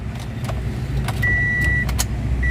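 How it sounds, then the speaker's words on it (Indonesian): A 2012 Toyota Yaris E automatic hatchback being started, with clicks and a brief whining tone over a low steady engine rumble, close up inside the car. "Nah kita akan nyalakan mesinnya"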